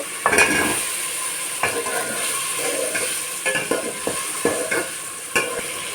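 Drumstick and potato pieces fry in a pan while a spoon stirs them, a steady sizzle broken by repeated scraping and clinking strokes against the metal, close and fairly loud, with no one speaking.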